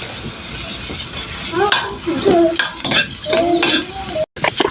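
Onions frying in a pan for Filipino pancit bihon, a steady close sizzle with scraping stirs and light clinks of utensil on the pan, no talking.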